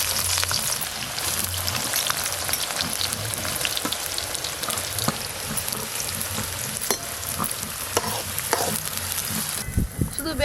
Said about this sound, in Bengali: শুধু বেরেস্তাগুলো ভাজা হওয়ার অপেক্ষায়, রান্নাটা করতে সময় লাগবে না।